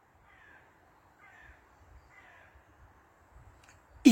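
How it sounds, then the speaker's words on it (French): Crows caw outdoors, three drawn-out calls spaced about a second apart at moderate distance, over a very quiet background with faint low rustles, ending in a sudden loud knock. "Il y a que des oiseaux."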